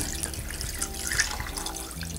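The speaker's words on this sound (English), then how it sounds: "Now we can pour the remainder of this marinade in." Beef marinade made with El Yucateco Red sauce pours into a slow cooker for beef vegetable stew, a short, close, steady trickle and splash of liquid.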